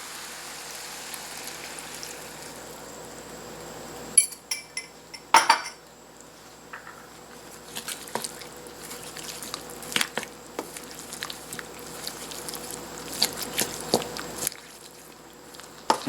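Cornstarch liquid poured over a ginger chicken and vegetable stir fry in a pan, a soft sizzle with scattered clinks and scrapes of utensil against metal, fairly quiet.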